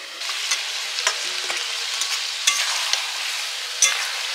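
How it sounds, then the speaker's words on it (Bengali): Potatoes and meat frying in a pan, a steady close sizzle punctuated by a few sharp stirring knocks and clicks. "ভেজে রাখা মাংসের আলুগুলো দিয়ে দিলাম।"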